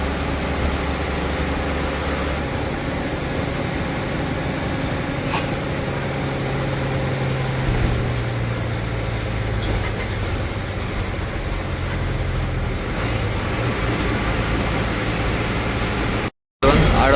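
An MSRTC Lal Pari bus pulls into the Daund bus stand, heard from inside as a steady, loud, low engine and road rumble that barely changes, with a brief dropout near the end.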